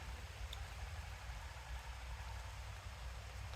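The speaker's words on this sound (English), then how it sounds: "this rain is something special" Steady rain pours outdoors in New York, a dense, even hiss of drops on surfaces with a low rumble underneath, constant and moderately loud with no talking.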